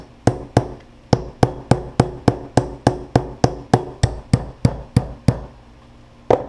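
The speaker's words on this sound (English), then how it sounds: "and slowly hammer it in." An Allen key struck with a hammer to drive a part into a G&G Combat Machine gas blowback airsoft magazine, about twenty loud, sharp, evenly spaced blows in a steady rhythm, then a brief pause and two more hits.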